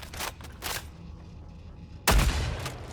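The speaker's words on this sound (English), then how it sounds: "This shotgun here, it has such a weird reload." Dragon Breath shotgun in Killing Floor 3 being handled and reloaded: two quick mechanical clacks, a pause with faint clicks, then a louder heavy clunk and rattle, close and alone.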